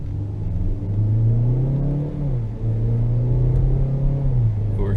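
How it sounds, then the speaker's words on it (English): A jacked-up Ford rolls past on a wet road, a loud close engine rumble with hissing tyre spray, the pitch dipping briefly as it shifts before steadying again. "There's a car the Ford jacked up pretty good."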